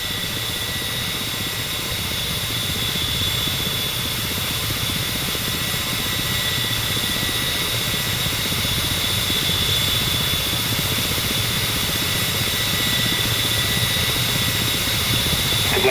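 A Ka-50 Black Shark attack helicopter in the DCS flight simulator holds a steady, droning engine and rotor hum at constant loudness throughout, with faint high whining tones and no voices.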